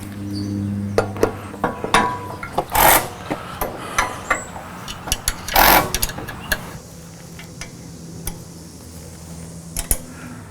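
Bolts on a full-length no-drill roof rack atop a 5th-gen Toyota 4Runner are tightened with a ratcheting tool, giving intermittent close rasping clicks and short grinding bursts, with quiet pauses between.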